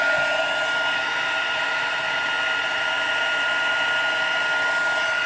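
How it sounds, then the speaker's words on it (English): An embossing heat tool blows hot air onto a card, a steady whirring hiss with a constant high-pitched whine held at even loudness throughout, close to the microphone with no talking. "I am just about to put the heat tool on"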